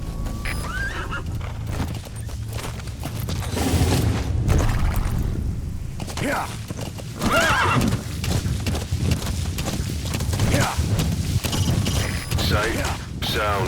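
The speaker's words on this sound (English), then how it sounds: "Use your horse." A horse in the game Metal Gear Solid 5 neighs and whinnies several times while its hooves clip-clop steadily underneath, with game ambience and a brief spoken word.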